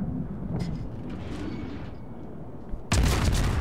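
Naval gunfire from the tier 6 Soviet destroyer Ognevoi in the game World of Warships: a steady rumbling battle din, then a loud, heavy salvo boom bursts in near the end and rolls on.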